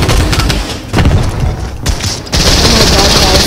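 Rapid automatic weapon fire in the Fortnite Battle Royale game comes in loud, dense bursts that rattle on with short breaks between volleys, close and heavy.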